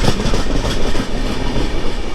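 Loud, close rumble of a moving train on the way to Dhanbad station, a continuous heavy roar of wheels and carriage with faint rhythmic clatter, no voices.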